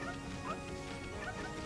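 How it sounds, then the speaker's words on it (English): A dog in the video game Okami yips and barks faintly amid dense, busy game audio, short overlapping calls buried under a continuous layered soundtrack. "Dog!"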